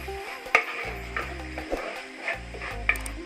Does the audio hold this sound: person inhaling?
no